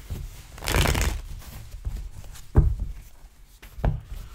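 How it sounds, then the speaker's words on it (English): A quick riffle of playing cards being shuffled up close, followed by a few soft taps and light card snaps. "One more shuffle."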